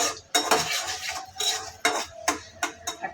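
Metal utensil scraping and clinking against a pan on the stove while lentils are tempered in leftover egg-frying oil, with several sharp, distinct strikes spaced irregularly and quiet gaps between them.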